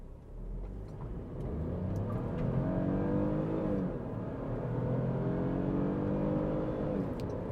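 A 2021 Mini Cooper accelerating hard from about 40 km/h, engine drone rising steadily in pitch from inside the cabin, loud and continuous with no talking.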